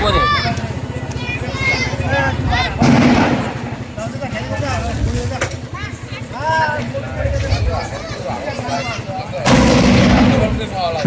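Big firecracker bombs burst at a Diwali celebration, two loud booming blasts standing out over constant chatter and children's voices nearby.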